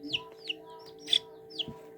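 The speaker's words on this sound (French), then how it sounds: "on peut actuellement voir un joli Oliveger, poussin Oliveger." High, thin peeping from an Oliveger chick in a small incubator, four short chirps spaced about half a second apart over a low steady hum, close and fairly faint.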